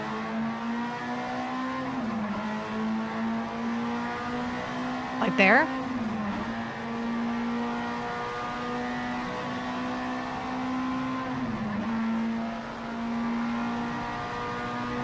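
A car engine hums steadily with rising revs, and the pitch drops twice as the gears shift up toward fifth. A brief voice cuts in partway through.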